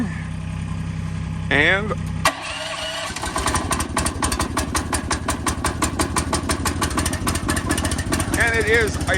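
A wood processor's engine cranks over, catches and settles into a steady, loud chugging idle after a short struggle, with someone talking briefly early on.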